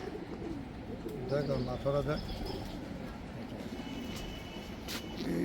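Prize-winning racing pigeons in a loft coo softly in a short series of low, warbling calls amid steady background noise, with occasional chirps.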